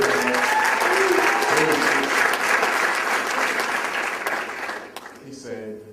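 Audience applause at a financial services event following a speech, steady and full for several seconds, then breaking off abruptly near the end as a voice starts speaking.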